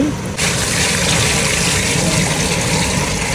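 Water pours steadily into a cooking pot for chicken sweet corn soup, a continuous close gush and splash filling the pot after a brief quieter start, with no talk over it.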